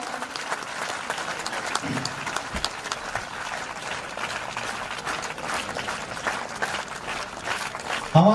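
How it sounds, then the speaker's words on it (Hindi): A crowd applauds to welcome guests at the inauguration ceremony of a newly built campus in Khategaon, India. Dense, continuous clapping from many hands goes on evenly for several seconds, with a louder burst at the very end. "तालियों से स्वागत करते रहें।"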